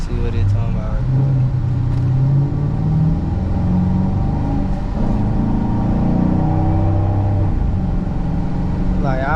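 A 2014 Dodge SRT with a Hemi engine rumbles steadily from close by, a deep, continuous low drone that holds throughout with slight swells in pitch.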